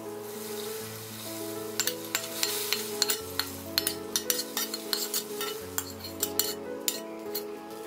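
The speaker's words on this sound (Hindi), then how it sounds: "ये टेम्परिंग हम ये रसम में डालेंगे।" Hot tempering poured into South Indian rasam sizzles, with a spoon repeatedly clinking against the pot as it is stirred, set over a steady tonal hum.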